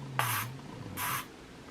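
Continuous heat protectant hairspray misting in two short bursts, a soft fine hiss each time, close but fairly quiet, with a faint low hum underneath and no talk.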